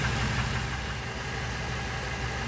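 A BMW X5 engine idles in park during a transmission fluid and filter change, giving a steady, close low rumble with a faint rhythmic knock and no voices.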